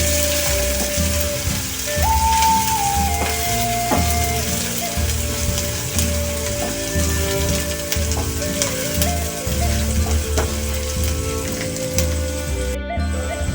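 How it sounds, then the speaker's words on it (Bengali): Onions fry in a pan for paneer bharta, producing a loud, continuous close sizzle with stirring clatter throughout, over a faint steady tonal hum. "পেঁয়াজ দেবো, পেঁয়াজটা ভালো করে ভাজবো লাল লাল করে।"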